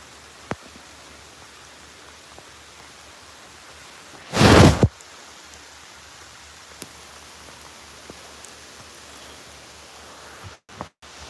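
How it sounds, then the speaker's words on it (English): Steady rain falling outdoors at a lakeside fishing spot in Ontario, an even wash of hiss and patter with a brief loud knock or rustle near the microphone partway through; no talking. "This is beautiful rain."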